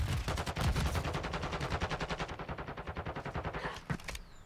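Rapid automatic gunfire in an online shooter game, a dense close burst of shots in fast rhythm for about four seconds, then a couple of isolated shots before it cuts off.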